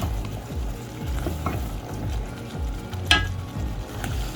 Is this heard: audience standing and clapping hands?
no